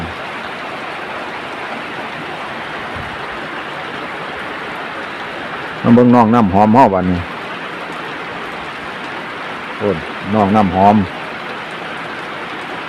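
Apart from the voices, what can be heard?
rain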